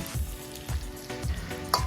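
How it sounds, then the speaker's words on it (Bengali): Chopped onion and garlic sizzle in hot oil in a wok at an outdoor riverside cookout, a close crackling fry with a few stirring pulses and no talk. "কড়াইতে দিয়ে দিলাম আমি পেঁয়াজ আর রসুন"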